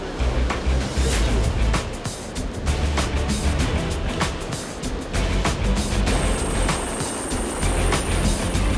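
Military helicopter lifting off at night during a joint naval exercise at sea, with heavy continuous rotor and engine roar filling the scene, loud and steady throughout, and a high whine emerging toward the end.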